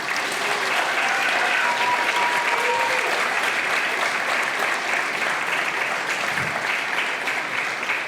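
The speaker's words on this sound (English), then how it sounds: "Let's give him one more round of applause." Sustained, dense applause from a school theater audience, steady and fairly loud from start to finish, with faint crowd murmur and a few voices mixed in.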